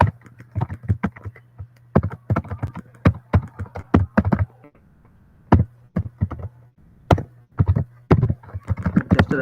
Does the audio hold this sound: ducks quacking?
no